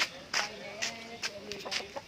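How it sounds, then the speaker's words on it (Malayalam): A chicken clucks in short, close bursts with a few soft gaps between calls, heard alone without talk. "നമ്മളെ കോഴിയാണ്."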